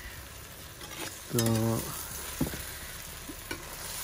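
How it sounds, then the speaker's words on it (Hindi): Okra gently mixed in a pot over a wood fire, a soft sizzle with a few isolated stirring scrapes and one short clank, quiet and close, with a brief spoken word. "ये अभी इसको हल्के हाथ से मिक्स करें, ज़्यादा ज़ोर नहीं लगाना इसके ऊपर क्योंकि भिंडियाँ जो है वो टूट सकती हैं"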